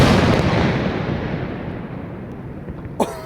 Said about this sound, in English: how will it compare to the canister salute?